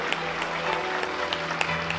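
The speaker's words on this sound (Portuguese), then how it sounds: "Uma salva de palmas para Jesus Cristo." Sustained applause from a church congregation, dense steady clapping with a few sharper individual claps standing out and a low hum underneath.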